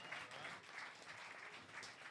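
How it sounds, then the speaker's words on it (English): Faint, modest applause from a live comedy show audience, a short even patter of clapping from the crowd without speech. "tepid to medium applause"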